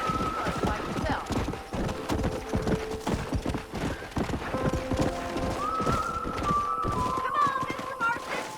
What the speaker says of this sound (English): Come on, Mr. Marston, pick up the pace. Giddy up! Let's go!